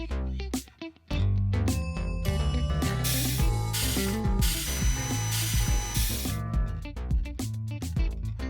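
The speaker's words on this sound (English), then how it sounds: "It's very good that they made the drill sound less unpleasant." A drill in the factory video game Kaizen: A Factory Story rattles in rapid mechanical bursts, with ratcheting clicks and a whirring tool running almost continuously and fairly loud, with no voices.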